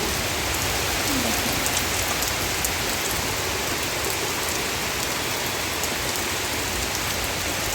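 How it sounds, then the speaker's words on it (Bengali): Steady rain pours down outside a home during a windy storm, a dense, even hiss filling the whole stretch with no voices over it. "আর দেখো বৃষ্টি আরম্ভ হয়ে গেছে।"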